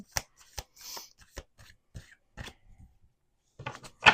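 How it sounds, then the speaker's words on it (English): Several bursts of cards being riffled and bridged, crisp fluttering clicks in quick runs separated by short pauses, close up with no talking. "Let's do 2 more shuffles."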